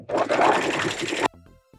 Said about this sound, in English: It's gonna be really important to serge this fabric because this fabric wants to fray like crazy.